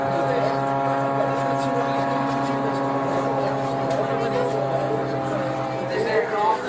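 A single-seat XA-41 aerobatic plane built in Germany flies routines at the 2013 Sunderland Air Show, its propeller engine a steady droning hum throughout while a commentator talks over it.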